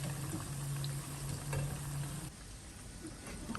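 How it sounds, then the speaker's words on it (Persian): Falafel sizzles in hot oil, a steady crackling fry with a faint bubbling hiss, close and even throughout with no talking. "همین که جای یه دونه فلافل خالی شد دوباره یه دونه قالب میزنم اضافه میکنم. این کار باعث میشه که دمای روغن همیشه توی سطح مشخصی بمونه"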